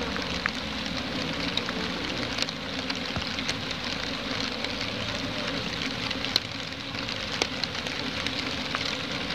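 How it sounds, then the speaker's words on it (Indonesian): Heavy rain pours steadily outdoors during a beehive relocation, a dense continuous patter with scattered sharper drops striking nearby surfaces, no voices over it. "hujannya makin deras"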